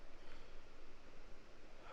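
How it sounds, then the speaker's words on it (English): Steady rushing of water flowing from a waterfall outdoors, a continuous broad wash of sound that stays even throughout with no voices. "There's some flowing water over there."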